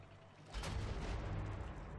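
An explosion in Sniper Elite 4 bursts suddenly after a quiet moment, a deep booming blast followed by a rumbling roar that fades slowly, fairly distant and muffled.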